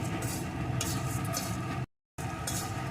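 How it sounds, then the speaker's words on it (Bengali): Spices frying in a pan for a vegetarian baby-potato curry (aloo dum), with a steady close sizzle and stirring scrapes, broken by a short silent gap before the frying resumes. "এখন অল্প আছে সুন্দর করে মশলাটা ভেজে নেব"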